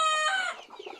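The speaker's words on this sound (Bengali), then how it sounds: "মুরগি দেখেন এইখানে নিয়ে আটকাই দিচ্ছি" A domestic hen on a farm gives a sharp, harmonic cluck-squawk up close, followed by a few softer, broken clucks trailing off.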